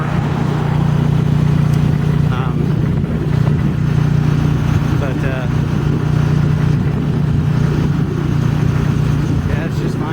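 A gas-engine golf cart runs with its carburetor still governed, giving a steady, loud mid-pitched drone that holds without pause, with a voice faintly in the background.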